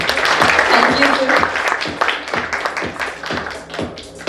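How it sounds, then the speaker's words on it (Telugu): An audience at a real estate company's lucky draw event bursts into applause, a dense run of fairly loud clapping lasting several seconds while a voice talks over it. "ఒకసారి మీ క్లాప్స్"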